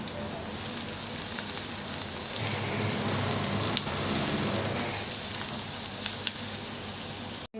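Garlic and dried red chillies sizzle and crackle steadily in hot oil, a continuous bright frying hiss with occasional pops, close up and fairly quiet.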